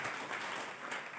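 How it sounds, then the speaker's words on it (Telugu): Church congregation clapping at a Christmas service, a brief burst of dense, even applause heard from within the hall at moderate volume, with no voices standing out. "అందరు చప్పట్లు కొట్టు దేవుని నామమున మహిమపరుస్తారు."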